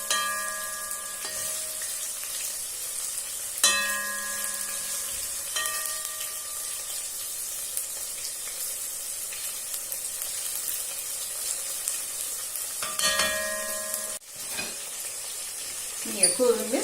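A continuous hiss of chicken frying in hot oil runs throughout, with occasional utensil clanks and stirring scrapes and a louder rattle near the end, close up and with no speech.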